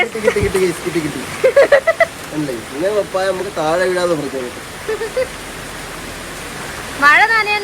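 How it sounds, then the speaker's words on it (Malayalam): Heavy rain pouring as a steady broadband wash throughout, with people talking over it at intervals. "ഭയങ്കര മഴ കേട്ടോ അടിപൊളി മഴ ഉഷാറു മഴ"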